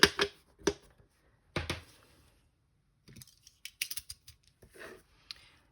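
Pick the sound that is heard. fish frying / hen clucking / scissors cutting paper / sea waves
scissors cutting paper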